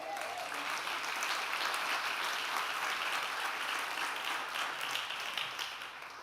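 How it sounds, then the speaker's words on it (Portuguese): Church congregation at an evangelical service applauding to the Lord, a steady wash of many hands clapping, moderately distant and even, holding for several seconds before easing slightly at the end. "Quem pode faz barulho de aplauso ao Senhor?"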